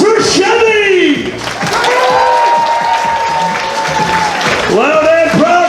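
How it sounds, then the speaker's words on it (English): Applause and cheering from the audience at a fursuit dance competition, a loud, dense crowd roar with whoops. An announcer talks over the noise throughout. "A huge round of applause for Chevy!"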